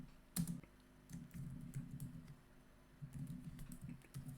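Typing an HTML heading tag and text on a computer keyboard, soft clustered keystrokes in three short runs with a sharper tap at the start, quiet and close.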